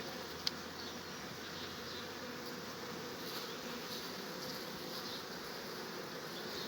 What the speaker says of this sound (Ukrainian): які класні спокійні бджолки. Бакфаст.